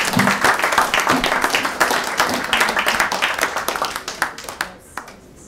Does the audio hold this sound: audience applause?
yes